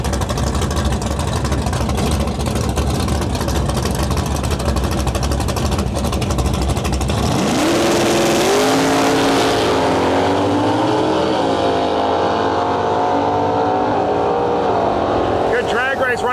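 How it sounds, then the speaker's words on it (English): Heads-up drag race at a Western Canada event, a G-Body Malibu against a Cuda: loud, dense engine roar that swells as both cars launch, then pitch rises in steady gear sweeps as they pull away down the strip. "Good drag race, right lane 661, getting the whole shot on the tree to left lane 657."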